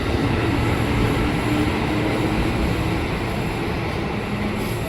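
KRL commuter train bound for Depok at Juanda station, a loud continuous rumble and rolling clatter of cars passing close by, steady throughout with no voices.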